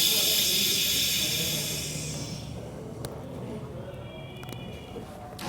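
A hydraulic valve on a mounting arm is eased open, releasing a loud broadband hiss of flowing fluid that fades over a couple of seconds into a quieter steady rush, with faint clicks near the end.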